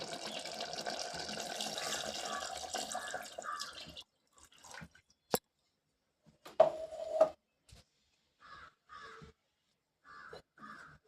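Water poured into a pot of mutton curry in a steady rush for a few seconds, followed by scattered drips and splashes, with crows cawing now and then in the background.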